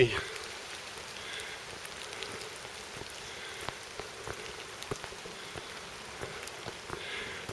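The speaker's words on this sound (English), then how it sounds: "Get out of this stinking rain." Rain falls steadily outdoors in Schwäbisch Hall in November, a soft continuous patter with scattered louder drops striking nearby surfaces.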